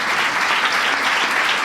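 A church congregation applauds steadily during a Pentecostal sermon, a dense, even wash of clapping filling the room from start to finish with no voices standing out.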